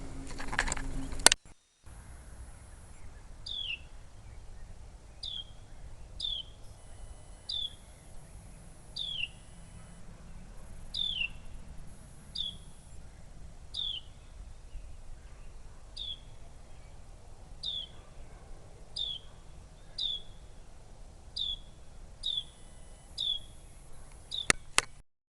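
Wild birds in a garden with a bird feeder, tomato cages and a butterfly bush, giving a repeated short, sharp chirp call at fairly regular intervals, faint and somewhat distant over a quiet outdoor background.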